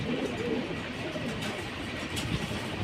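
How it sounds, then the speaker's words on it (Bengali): Pigeons at a Bangladeshi pigeon seller's stall give low, soft cooing and murmuring with some rustle throughout, steady and fairly near, with no talk over them. "টপ কোয়ালিটির কবুতর দেখেন"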